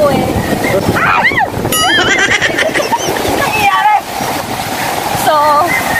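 Typhoon Odette's wind and rain roar constantly and loudly, with gusty rushing like surf that keeps up throughout, while a voice talks over the storm.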